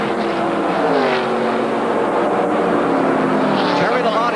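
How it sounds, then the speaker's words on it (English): Stock race cars at the 1987 Busch Clash roar steadily down a straightaway, with loud, continuous engine noise and passing pitch sweeps under a commentator's voice. "You're watching this live as they race for position down the back straightaway."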